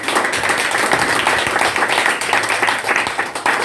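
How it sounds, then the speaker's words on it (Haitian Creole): An audience at a community conference applauds a speaker, a dense, steady wash of clapping from many hands filling the whole stretch with no talk over it. "Comme nous sommes héros, applaudissez nous un héros."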